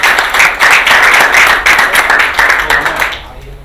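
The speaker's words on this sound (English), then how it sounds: "Let's have a round of applause" Loud, sustained audience applause with dense overlapping clapping that continues steadily for a few seconds, then thins and fades out near the end.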